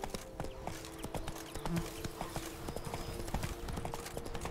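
Hooves of Roach the horse clip-clop in The Witcher 3, a close, steady trotting beat of sharp knocks over game ambience and faint background tones.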